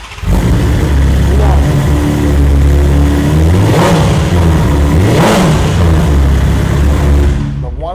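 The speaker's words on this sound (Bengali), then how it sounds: "2023 শেষের S1000 আর স্টার্ট করে শোনাই সবাইকে বন্ধুদেরকে" 2023 BMW S1000RR motorcycle started up and revved: a loud, close engine roar with a couple of rising revs in the middle, settling back into a throbbing idle.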